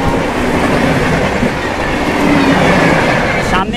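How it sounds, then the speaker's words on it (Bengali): The Brahmaputra Mail express, running from New Delhi to Kamakhya Junction, rushes past at high speed with a loud, close, continuous roar and rapid clattering of wheels on rails. "সামনে আসছে ট্রেন নাম্বার 15657 নিউ দিল্লি থেকে ছেড়ে আসা কামাখ্যা জংশন পর্যন্ত যাবে ব্রহ্মপুত্র মেল।"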